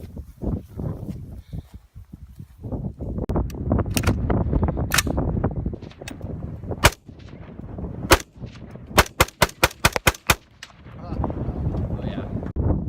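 Gunshots fired at pumpkins ring out loud and sharp, single shots early on and then a rapid run of about seven evenly spaced blasts, with outdoor wind noise and rustling between them.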